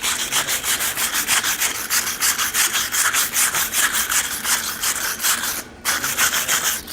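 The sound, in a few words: wire brushing hot forged steel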